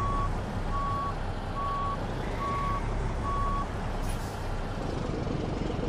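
Reversing beeps from a truck in American Truck Simulator sound at a steady regular rhythm over a constant low engine rumble while the rig backs up to a trailer.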